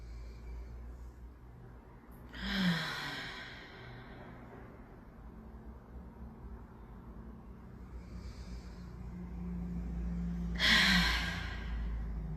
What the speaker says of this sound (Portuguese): Respira bem fundo. Solta o ar bem devagar.